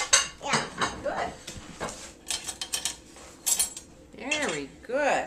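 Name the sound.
silverware taken out of a dishwasher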